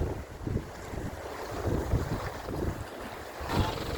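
A boat out at sea rumbles along through heavy wind buffeting the microphone, with waves and water rushing past at a steady, fairly loud level.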